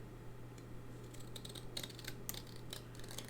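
Card stock being trimmed for a double mountain view fold card, giving soft, quiet clicks and slicing ticks in short bursts over a low steady hum.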